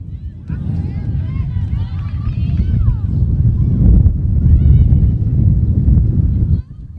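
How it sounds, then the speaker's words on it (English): Wind gusts across the open Allan Trimble Stadium during a high school girls' soccer match, a constant heavy low rumble buffeting the microphone, with a commentator talking over it. "Windy day here"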